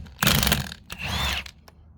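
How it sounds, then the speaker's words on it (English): Ratcheting wrench clicking in fast bursts while working on the cylinder head bolts of a 1997 Ford engine, close and fairly loud, with short metallic mechanical clatter and a brief sharp tick near the end. "how about you use a wrench?"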